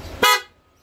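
PIAA dual loud horn on a Honda Click 125 scooter blasts once, a single sharp, bright honk lasting about a quarter second, close and loud with no talk.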